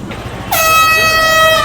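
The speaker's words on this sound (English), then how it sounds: "Air horn sounded" Quiet rumble, then a loud, sustained air horn blast at a sprint car race at Knoxville Raceway starts abruptly and holds its bright, brassy tone for over a second.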